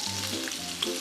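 Pork secreto steak searing in a hot pan, a loud continuous close sizzle and crackle with faint stirring clatter, no voices.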